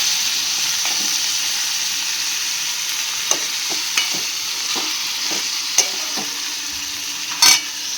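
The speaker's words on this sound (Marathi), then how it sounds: "तर मी या मसाल्यांमध्ये आपलं कोळंबी आणि बटाटे असे सोडून देणार आहे आणि असं छानपैकी आपण वर खाली मिक्स करून घेऊया" Prawns and potatoes are stirred through a spicy masala in a pan, with soft sizzling underneath and a series of sharp spoon clicks and scrapes against the vessel, ending in a louder clatter.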